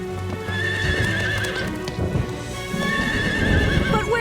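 A cartoon horse named Chili whinnies shrilly several times over a galloping clip-clop of hooves, with a storm's rain pattering behind the close, lively animal sounds.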